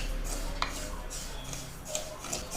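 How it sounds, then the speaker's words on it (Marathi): Garden cress seeds (aliv) are dry-roasted in a pan. Faint scraping, stirring and light ticking clicks sit over a low steady background hum. "तीळ जसं भाजतो आपण त्याच पद्धतीने ही आळीव आपल्याला भाजून घ्यायची आहे"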